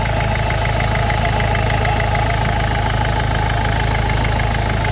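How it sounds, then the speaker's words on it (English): A Peugeot Bipper van with suspected head gasket or oil cooler trouble idles loudly and close by. The low, even engine drone is steady and vibrating for five seconds, with no voices. "the van is running now over 40 minutes"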